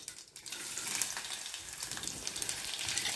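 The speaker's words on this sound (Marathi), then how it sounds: "लसूणाचा थोडासा कच्चेपणा जाईपर्यंत आपण थोडंसं याला परतून घेऊया" Garlic cloves sizzle steadily in a hot pan with a pinch of asafoetida, a continuous close hiss of frying with no talking.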